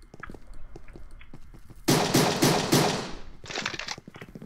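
Gunfire in a Minecraft cops-and-robbers match, a dense burst of rapid shots following quieter clicks, then a second shorter volley, loud and close.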